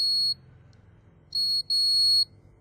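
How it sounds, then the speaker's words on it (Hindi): Continuity beeps from a multimeter probing resistor R22, which connects directly to battery plus on a charging circuit under repair; three steady high-pitched tones, the first and last longest, with short gaps between, close and clear. "आप देख सकते हैं बैटरी के प्लस से R22 पर बीप आ रही है"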